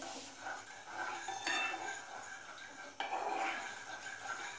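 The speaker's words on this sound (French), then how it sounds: "Je vais donc les mélanger." Cookie dough ingredients for sugar-coated gazelle horns are stirred in a bowl. A spoon scrapes and clinks against the sides in continuous close rubbing strokes, with a sharper knock near the middle.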